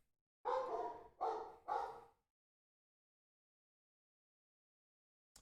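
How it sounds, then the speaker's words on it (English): Three distinct barks from a nearby dog come in quick succession, loud and clear against silence, followed by a long quiet stretch and a faint click at the end. "you can hear the dog barking"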